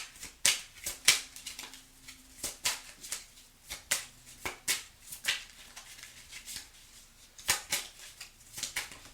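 Tarot cards snap and flick as they are shuffled and drawn, a steady run of sharp, close papery clicks and riffles spread across the whole stretch, with no talking.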